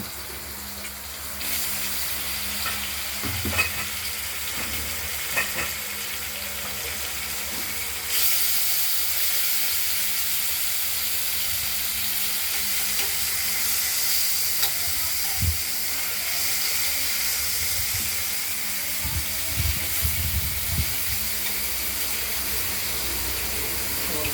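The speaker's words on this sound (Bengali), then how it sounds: "মাছগুলোকে আমরা প্রথমে ভেজে নেব।" Rohu fish pieces frying in hot oil in a wok, a continuous broad hiss and sizzle that swells partway through, with a few faint knocks and clatters in the background.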